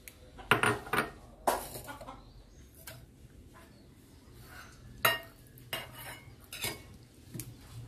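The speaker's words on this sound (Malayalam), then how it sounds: "ഇതെല്ലാം കൂടെ ഒന്ന് മിക്സ് ചെയ്യണം." Ground rice and jackfruit batter is mixed by hand for chakka ada, producing intermittent wet squelches and scattered clinks of a bowl or utensil, with quiet pauses between bursts.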